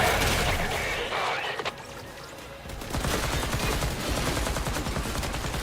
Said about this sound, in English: So I have to get off to shoot.